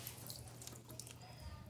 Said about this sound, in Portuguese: Está aí como de água aí, ó. Água limpa.